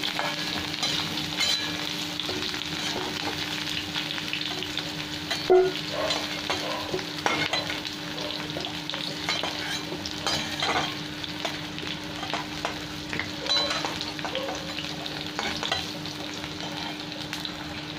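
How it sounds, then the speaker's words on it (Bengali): Cauliflower and potato pieces fry in hot oil in a pan, giving a steady, close sizzle with occasional stirring scrapes and clinks throughout and no talking. "এখানে ফুলকপি আর আলু আমার ভাজা হয়ে গেছে, এবার আমি উঠিয়ে নিচ্ছি"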